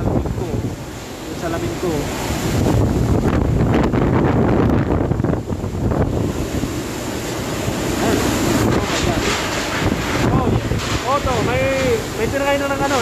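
Super Typhoon Rolly (Goni) battering Naga City, its strong wind roaring continuously and buffeting the microphone, with rushing gusts and someone talking over it.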